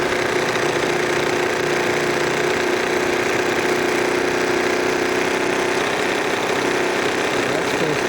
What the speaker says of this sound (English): And there's the Bassett Lowke engine.